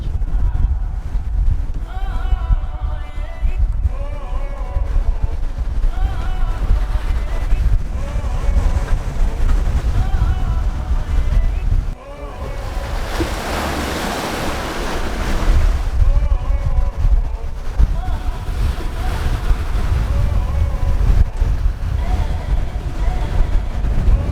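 A sailboat racing at sea near 36 knots, rushing water and surf roaring continuously under heavy wind buffeting the microphone, with voices talking over it.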